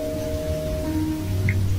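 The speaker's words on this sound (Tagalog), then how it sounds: "Lakas ng ulan sa labas." Heavy rain falling outside as a steady, continuous wash of noise, heard from indoors with a low hum underneath.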